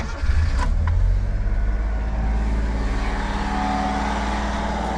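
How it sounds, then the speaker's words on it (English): A Honda Street kei van with an essentially brand-new motor starts up, its small engine catching and settling into a steady, throbbing low idle close by. "So let's start this guy up."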